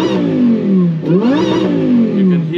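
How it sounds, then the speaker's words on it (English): A Lamborghini Huracan Performante engine, twin-supercharged to 850 hp, revs up and down loudly nearby, its pitch sweeping higher as a whining compressor winds up. "You can hear the compressor winding up."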